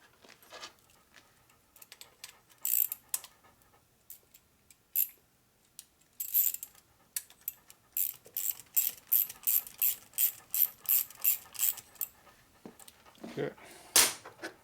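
Repeated clicking of a ratchet tightening long Allen bolts on a Harley S&S 113ci Evo motor during a cylinder stud repair, coming in short bursts of quick ticks with pauses, fairly close, with occasional speech between.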